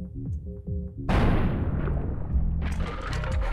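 In Buckshot Roulette, a short run of soft musical tones gives way to a single loud, close shotgun blast that rolls off in a long, rumbling decay.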